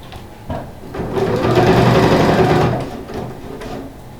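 A sewing machine stitches bias binding onto a fabric clothes-organizer envelope in patchwork, its motor whirring steadily and loudly for a few seconds, then easing off, with no talk.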